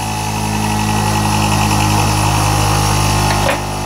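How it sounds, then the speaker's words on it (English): A bench grinder with a diamond dressing wheel, set up with a lathe carbide tool grinding rest, hums loudly and steadily, then is switched off near the end and its drone drops away. "I'm going to turn the grinder off right there"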